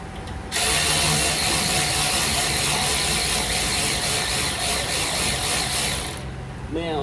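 A ratchet clicks steadily while brake bolts are tightened on a Ford Transit, a continuous close, loud mechanical rattle that runs for about six seconds and then stops.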